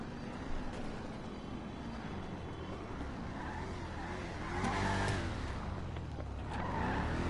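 A car skids with squealing tires in the video game GTA Online, a continuous loud screech over engine noise that swells toward the end.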